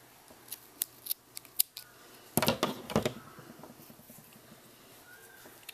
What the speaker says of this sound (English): I'm going to cut the rest of the string off